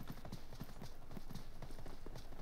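Footsteps in the mobile battle royale game PUBG Mobile, a quick, steady run of faint, soft thuds and scuffs at close range with no talk.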